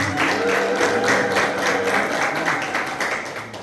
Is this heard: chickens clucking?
no